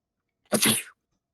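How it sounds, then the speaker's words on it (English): A single sharp, close sneeze bursts out of silence, loud and brief, with quiet before and after. "that was the worst fucking sneeze I've ever had in my life"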